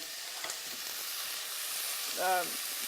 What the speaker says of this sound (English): pan fried and turn into a roasted pink color